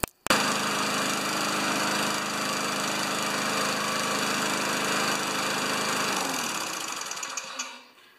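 Small lawn mower engine running steadily at high speed after a governor spring adjustment, a loud continuous buzzing drone that holds for about six seconds, then drops in pitch and winds down near the end.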